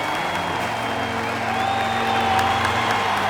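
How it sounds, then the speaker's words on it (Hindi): Steady applause from a crowd, sustained and fairly loud throughout with a few scattered voices underneath. "ये लो तालियां।"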